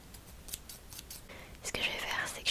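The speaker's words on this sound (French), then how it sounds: "d'une paire de ciseaux." A pair of scissors snipping softly up close, several quick light cuts followed by a brighter crisp snip, amid faint soft-spoken whispering.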